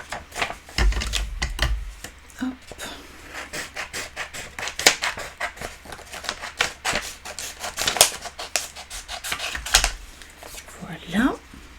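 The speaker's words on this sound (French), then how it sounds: "on va maintenant pouvoir découper notre papier vélin qui est sec." Scissors snipping dry vellum paper for a round floral card, a run of crisp cuts and rustles close by, with a brief spoken word.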